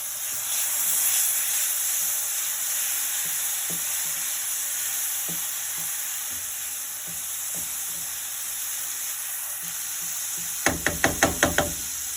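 Chicken pieces and garlic fry in a pan with a steady, loud sizzle and hiss throughout, a few soft knocks underneath, and a quick series of sharp utensil taps near the end.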